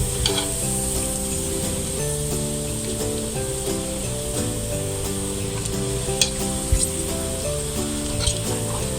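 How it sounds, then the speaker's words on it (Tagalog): Kabkab crackers fry in hot oil with a dense, continuous sizzle and crackle, broken by a few sharper clicks of stirring near the end, heard close up with no talking. "But you have to be cautious when frying because it easily get brown."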